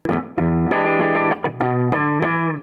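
An electric guitar, a Strat-style guitar on the middle pickup position, plays a sustained, bright melodic line of ringing notes, with slight effects coloring the tone, close and fairly loud.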